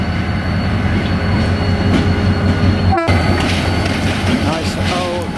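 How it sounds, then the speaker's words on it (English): A train rolling through a station in Africa, loud and close, with a continuous rumble of wagons, a sharp click of wheels over a joint and rising metallic squeals from the wheels, with people talking in the background. "So we have a real live train coming through the station here."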